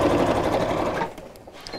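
A sewing machine stitches across the top of a strap on a messenger bag, a close, rapid mechanical whirr that runs for about a second and then stops.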